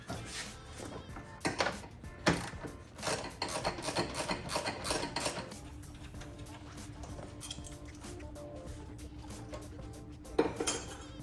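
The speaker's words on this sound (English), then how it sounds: "Get this bad boy out, as long as you loosen the clamp enough." Car radiator hose being worked loose from a Nissan Z32 after its clamp is loosened, heard as close, intermittent scraping, rubbing and metallic clinks in short bursts, faint, with no talk.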